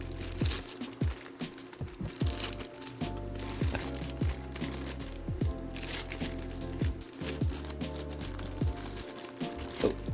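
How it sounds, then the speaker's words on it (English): Crinkly plastic bag being handled while a large Airbus A380-800 model airplane fuselage, 1/200 scale, is unboxed at a desk; steady close rustling and crackling with scattered sharp crinkles throughout. "Take it out of this plastic bag right here."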